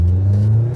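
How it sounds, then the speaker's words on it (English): A Vauxhall Zafira's engine revs hard, up close, as a steady loud low drone with a bright mid-range whine throughout, no talk over it. "Zafira's engine running much better"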